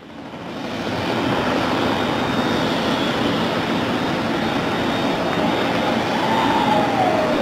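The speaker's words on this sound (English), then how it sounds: "Space shuttle carrier aircraft with Endeavour strapped atop coming in for its landing at Ellington Field" A space shuttle carrier aircraft carrying Endeavour on its back comes in to land at Ellington Field. A broad, steady jet roar swells over the first second, then stays loud and constant with no talk.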